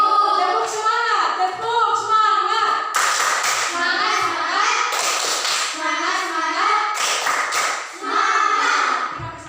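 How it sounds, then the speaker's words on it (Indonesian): A class of sixth-grade schoolchildren claps a rhythmic spirit clap in a classroom, loud sharp claps in patterned bursts with short pauses, mixed with the children's chanting voices, close and lively. "Tepuk semangat."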